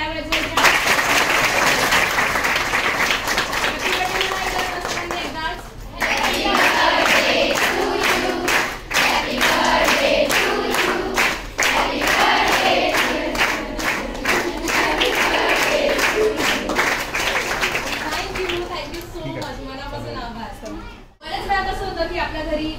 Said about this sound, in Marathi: सगळ्यांनी टाळ्या वाजवायच्या।